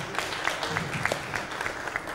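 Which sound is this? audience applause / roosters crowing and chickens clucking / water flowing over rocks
audience applause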